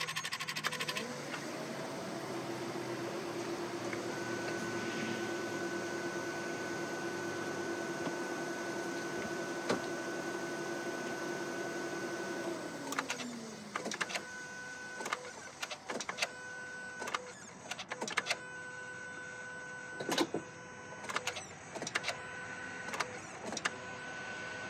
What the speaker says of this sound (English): we're gonna go cycle the key a couple times, let the fuel pump run